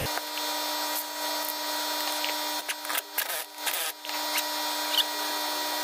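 A power tool tightens a wheel on a 1954-1971 Dodge D100 fitted with a disc brake conversion, giving a steady, close mechanical whir with a couple of brief dips in pitch.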